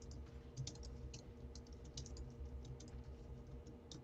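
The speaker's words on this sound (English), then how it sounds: "You can hear me typing?" Computer keyboard typing close by, a quick irregular patter of light key clicks running steadily throughout over a faint background hum.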